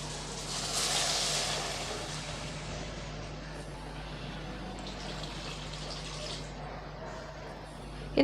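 Water pours steadily into a pan of corn rava for upma with a continuous, moderately loud gush that fades a little toward the end.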